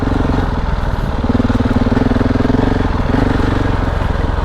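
KTM 690 Enduro R single-cylinder motorcycle riding sandy single track in the woods, a steady close engine drone with a slight rise in revs midway, loud and continuous with no talk.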